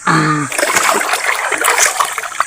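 A short burst of close splashing and sloshing water as a ridge gourd loofah is dunked, following a brief voice at the start.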